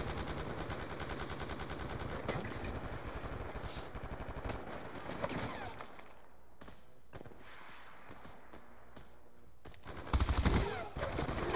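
Sustained rapid gunfire from Minecraft or Resident Evil 3 rattles continuously, easing briefly in the middle before a louder burst near the end.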